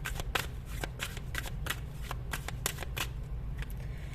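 Affirmation cards are shuffled by hand in quick crisp riffling bursts, soft and close, repeating irregularly with brief pauses between.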